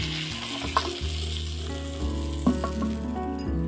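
Eggs rubbed with salt and turmeric fry on a hot tawa with a loud, continuous sizzle and a couple of brief utensil clinks.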